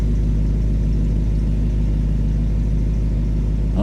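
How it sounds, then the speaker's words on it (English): A Pontiac Solstice exhaust idles close by, giving a steady deep drone with a constant low hum and no change in pace, with no voices. "Let's go take a listen to the exhaust real quick."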